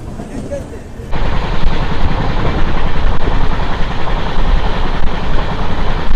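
An Intercity SF Express train runs on rails after leaving Mangalagiri, a steady loud rolling rumble that rises sharply after a quieter first second and keeps going.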